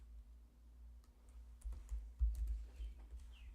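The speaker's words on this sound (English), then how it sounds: "I wish I were faster at typing this." Typing on a computer keyboard, a faint, uneven run of soft clicks and taps close by that grows a little busier partway through, with no voices heard.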